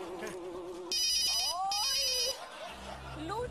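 A cell phone ringtone plays in a noisy setting, with bright repeating electronic tones in two bursts amid voices and shouts.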